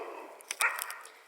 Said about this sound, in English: I had to pause if the dogs are all barking